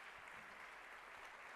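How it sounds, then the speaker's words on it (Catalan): Steady, even applause at a social action awards ceremony, heard as a faint, distant wash of clapping that stays level throughout. "Fort aplaudiment"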